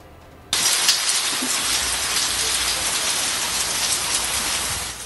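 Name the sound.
heavy rain falling in Pakistan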